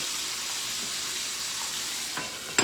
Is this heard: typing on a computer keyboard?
no